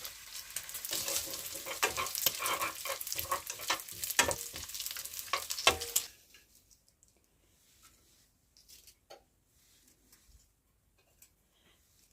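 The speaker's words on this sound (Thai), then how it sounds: "อันนี้เราทอดนี่แบบว่าไม่ต้องใส่น้ำมันเลยนะคะ น้ำมันก็จะออกเองจ้ะ" Bacon frying in a pan with no added oil, a dense loud crackling sizzle for several seconds that suddenly drops to near silence with sparse faint pops and ticks.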